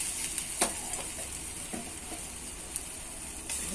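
Panch phoron and asafoetida hit hot oil in a home kitchen, giving a quiet continuous sizzle with a few sharp crackles and spoon clinks scattered through it.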